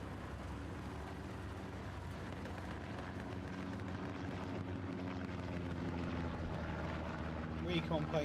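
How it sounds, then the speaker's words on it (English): A recon plane drones overhead in the Hell Let Loose battlefield, a steady low engine hum that swells slightly toward the end, under constant commentary and background battle noise. "Recon plane coming over"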